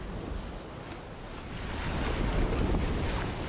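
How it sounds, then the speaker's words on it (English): Strong wind roars and ocean waves surge continuously around a sailboat on the North Sea, a steady broadband rush with heavier swell building in the second half, with no voices. "A perfect southerly strong breeze to our beam would give us good speed through the waves towards Shetland."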